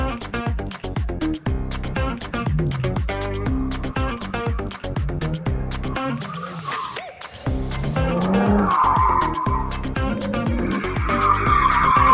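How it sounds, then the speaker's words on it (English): A car drifts around a tight track at the British Motor Show 2024, its tyres skidding and screeching loudly over a continuous engine roar for the whole stretch, with no talk. "Quite a tight track to drift on."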